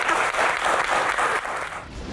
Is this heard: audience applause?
yes